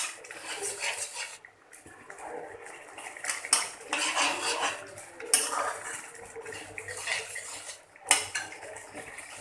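A metal spoon clatters and scrapes against a pan while fish curry with roasted eggplant is stirred and fried, giving irregular knocks and scrapes over a faint sizzle.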